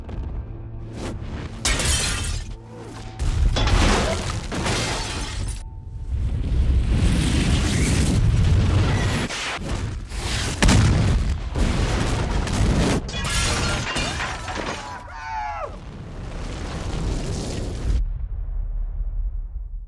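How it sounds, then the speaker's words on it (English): A giant explosion from the film 28 Days Later ends a frantic, tense sequence, with loud crashing bursts and shattering debris that rumble on in waves for several seconds before cutting off. "it all climaxes the way anything should, with a giant explosion."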